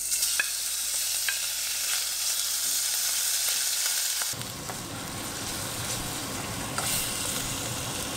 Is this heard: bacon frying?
yes